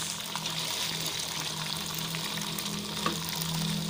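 Galangal frying in a pan, a continuous quiet sizzle with a faint steady hum beneath and one small pop near the end, no talking.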